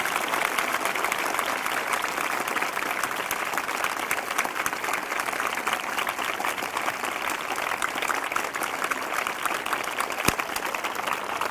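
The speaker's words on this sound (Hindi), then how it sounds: "फिर से जोरदार ताली बजाकर प्रभु को धन्यवाद दें" A congregation at a Sunday evening church meeting claps loudly and continuously, a dense, even roar of many hands that holds steady for over ten seconds with no voices standing out.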